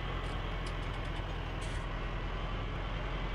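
A heavy truck in the Farming Simulator 19 game rumbles with a steady, loud engine drone while braking, with brief hissing bursts of air brakes near the start and middle and no talk.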